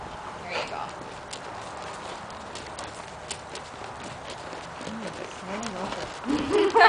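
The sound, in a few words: horse hooves loping in an arena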